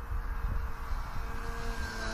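A small RC flying wing plane makes a low flyby at night, its motor a steady moderate whir that runs throughout, with no talk.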